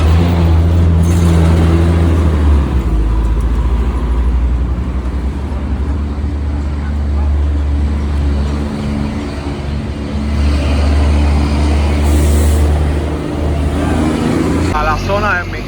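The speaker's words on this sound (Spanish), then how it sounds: "qué movimiento y qué tráfico de personas y de autos siempre hay en esta zona" Busy street traffic in Cuba, cars and other vehicles rumbling steadily close by with engine drone and occasional revving, a continuous loud road noise throughout.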